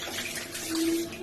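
Water running steadily while a dirty plant pot is washed, a brief continuous splashing stream close by.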